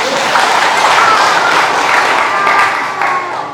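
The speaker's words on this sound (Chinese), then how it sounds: "给他们掌声鼓励鼓励。" A church congregation bursts into loud, dense applause mixed with cheering and children's voices, holding strong for a few seconds before starting to taper off.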